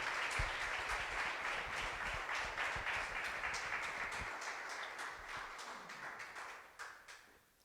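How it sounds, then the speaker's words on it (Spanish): A church congregation applauds at a Sunday service, a dense steady wash of hand clapping from many people that holds for several seconds, then thins and fades out toward the end. "Dele fuerte ofrenda de palmas al Rey de la Gloria"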